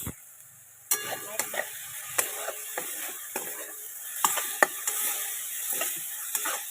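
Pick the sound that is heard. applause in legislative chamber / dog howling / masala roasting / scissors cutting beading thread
masala roasting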